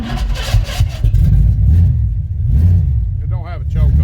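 A 1975 Chevrolet C10 with a big-block 402 V8 starting cold, running with a loud uneven low rumble and rising revs, while someone talks over it.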